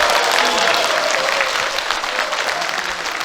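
Crowd at a Korean National Assembly member's constituency report meeting in Yeonggwang applauds warmly, a loud continuous roar of many hands clapping that holds steady and eases slightly toward the end.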